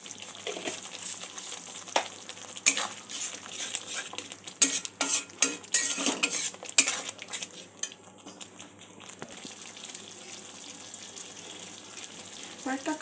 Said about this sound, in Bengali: আরও একবার নাড়াচাড়া করে নেব।